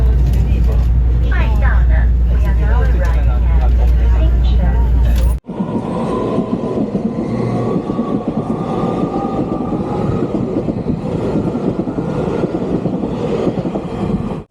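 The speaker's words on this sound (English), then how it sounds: "Look at the train. It's pretty new." Passenger train running on rails through the Tianxiang area of Taroko National Park, Taiwan: a steady loud rumble of the carriage with faint rail clatter, heard close from inside, with people talking over the first part.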